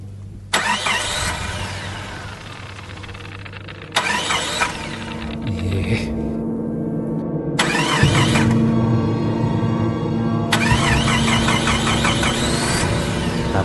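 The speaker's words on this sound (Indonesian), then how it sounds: "Beberapa kali aku coba menyertarter mobil, tapi tetap saja tidak berhasil." A car engine cranks repeatedly without catching, four loud bursts of rapid starter chugging separated by pauses with a low background hum, close and alone.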